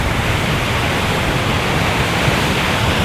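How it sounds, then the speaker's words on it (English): Steady, dense roar of falling water from Lake District waterfalls fills the clip, a constant broadband rush with no pauses, close and fairly loud. "these waterfalls are pretty cool."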